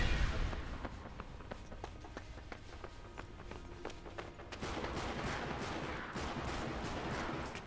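Gunfire in the Sniper Elite V2 video game, a rapid run of sharp shots in quick succession followed by a denser burst of firing and movement noise, moderately loud, with no talking.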